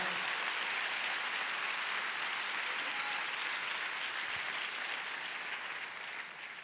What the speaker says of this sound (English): Let's give God a big clap.